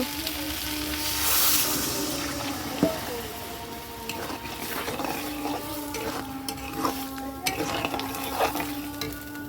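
Water poured into a pot of fried spice paste of ginger-garlic, turmeric, cumin and nigella for a taro and pointed gourd curry sets off a loud, bubbling sizzle with scattered clinks and scrapes throughout.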